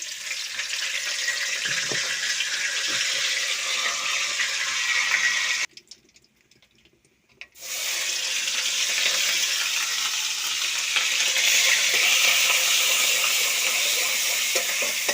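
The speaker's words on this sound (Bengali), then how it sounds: "এখন আমি তেলের মাঝে একটু তেজপাতা দিমু" Bay leaf fries in hot oil with a steady close sizzle, interrupted by a short silent gap, then the crackling resumes and swells slightly louder.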